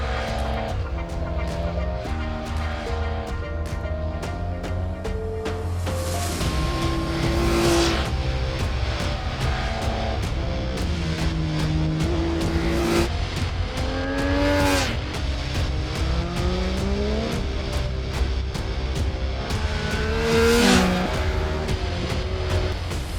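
A 2018 Triumph Speed Triple 1050 RS motorcycle being ridden, its engine climbing and dropping through the revs in repeated loud, close accelerations over a steady background.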